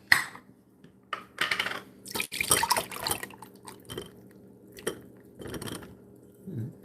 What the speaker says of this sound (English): now we're going to also go ahead and pour some cherries in here and let these be draining